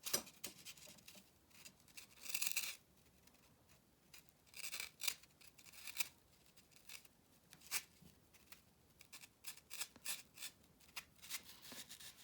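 Dental tools carve and crush foam for an aluminum casting pattern, making quiet, close, scratchy scraping and crunching bursts in an irregular rhythm, with no speech.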